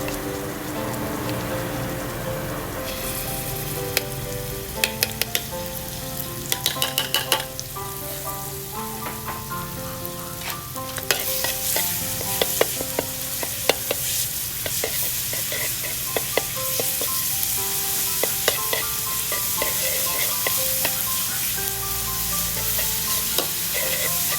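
Garlic frying with Thai roasted chili paste in a pan gives a loud, steady sizzle with scraping and stirring clicks throughout, close by, over a faint musical background.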